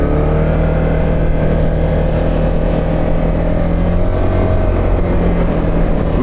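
A Can-Am Outlander 1000R MAX XTP engine accelerates while driving, a loud, steady engine drone with sustained tones that rise and dip slightly, heard close and continuously without talk.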